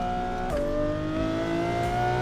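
Engine of a race car driven in the Assetto Corsa PC racing game on the LA Canyon map, droning steadily with a shift in pitch partway through, loud and continuous with no talk over it.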